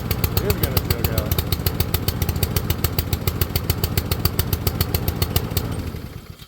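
A Honda engine on a Troybilt TB240 push mower, running rich, sputters with a rapid uneven firing beat that stays loud and close before fading out at the end as it nearly chokes.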